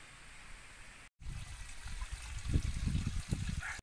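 Water trickling from a natural spring beside a lake, a faint continuous flow that grows fuller after a short cut, with soft low splashing and bubbling up close.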